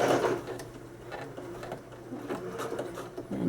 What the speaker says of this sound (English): back stitch a couple times just to make sure it's nice and secure